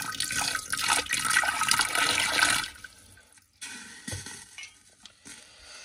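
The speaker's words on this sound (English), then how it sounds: "See if I can catch a video of the splash." Liquid splashing and pouring during a silver recovery process from keyboard mylar, a loud rushing wash for about two and a half seconds, then quieter trickles and small splashes.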